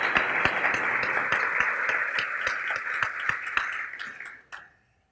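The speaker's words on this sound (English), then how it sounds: "we'd like to give you a round of applause" Applause from a ribbon-cutting audience at the opening of an industry innovation center, a dense wash of clapping with a few louder nearby claps standing out, sustained and fairly even before tapering off abruptly near the end.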